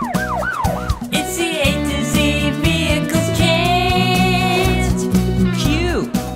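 A police car siren wails with rising and falling sweeps near the start, set in a bright children's vehicle song whose steady beat and melody carry on throughout.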